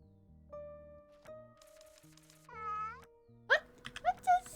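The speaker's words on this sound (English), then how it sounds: "Oh yeah, we can pet the cat." A cat meows as it is petted in a video game, a few short close meows at the end following chiming game interface tones and music, with no speech.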